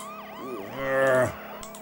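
Police car siren in the Amiga game Crazy Cars II: a wailing electronic siren sweeping up and down in pitch, swelling briefly louder over a low engine drone.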